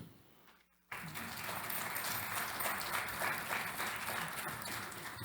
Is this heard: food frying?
no